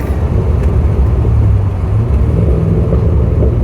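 A car pulls hard along a back road in a steady, loud, low engine rumble and drone heard from inside the car, with no talk.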